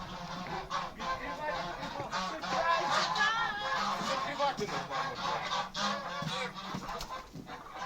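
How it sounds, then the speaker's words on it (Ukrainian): A flock of geese fighting, honking loudly and continuously, harsh overlapping calls close by, with a voice briefly mixed into the clamor. "А ну заглянь, що там гуси воюють?"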